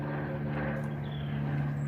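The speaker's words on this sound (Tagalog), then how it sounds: "Tinig na dinig ang helicopter" A helicopter passing over a pedestrian-only walkway produces a steady, droning rotor hum at moderate distance that holds level for the whole moment, with no voices.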